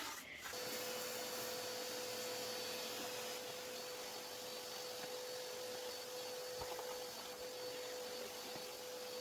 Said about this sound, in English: I feel like I can just vacuum this up